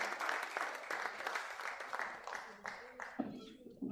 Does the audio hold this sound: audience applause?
yes